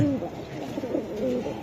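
Female racing pigeon cooing at a pigeon seller's, soft low coos repeated a few times close by, with faint background noise.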